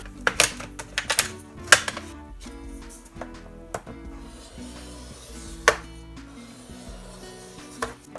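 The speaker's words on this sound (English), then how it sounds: "And then it's time to fold." A printed paper favor bag is folded by hand, giving crisp, irregular creasing clicks and taps up close, with a soft paper rub between them.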